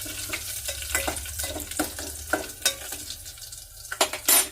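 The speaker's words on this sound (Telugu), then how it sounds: "ఇవన్నీ వేసుకున్నాం కదా, కొంచెం బాగా వేయించుకుందాం" Dried red chillies and spices crackle and sizzle in a tempering pan for rasam, with a close, uneven frying hiss and a few sharper pops and stirring knocks.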